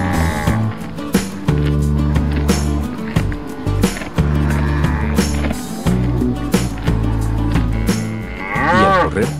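Repeated deep moos from a farm cow, loud and near, alongside rhythmic music.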